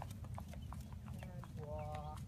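A horse walks during a riding lesson, its hooves making faint, evenly spaced soft clops over low background rumble, with a few brief clucking sounds nearby.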